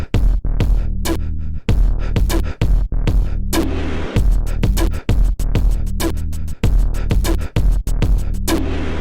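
A looped beat of kick, snare and hi-hat with bass, playing a steady punchy groove with short gaps between hits, loud and close with no voices.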